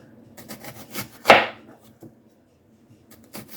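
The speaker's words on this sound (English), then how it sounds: "You need a large onion. This is pretty much the biggest one I had, sliced and quartered. So we're just going to slice it." A knife slicing through a large onion on a cutting board, a few soft scattered cuts and one sharp, loud chop at the centre, then quiet.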